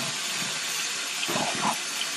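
Tap water runs steadily into a sink during handwashing, a continuous hiss with slight surges near the end and no voices over it.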